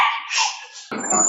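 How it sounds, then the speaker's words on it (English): Dogs barking, with a sharp yelp followed by a burst of rough, noisy barks, fairly close and loud with no speech over them. "Oh, these are the dogs."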